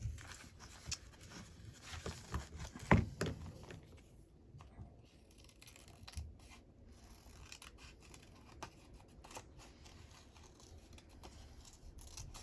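Scissors snip through paper to cut out yellow roses, a series of quiet close crisp cuts and rustles with one sharper snip early on, then softer handling of the paper.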